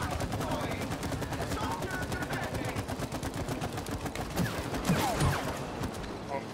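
Rapid gunshots from the co-op game It Takes Two, fired at a target on a character's back, forming a steady stream of bursts over busy game sound, with talk mixed in.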